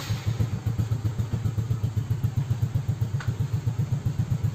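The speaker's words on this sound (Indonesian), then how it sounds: "Kalau misalnya mesin gue nyalain" A Yamaha Xeon scooter engine runs at a steady idle close by, its low, even chugging pulses continuing evenly without talk.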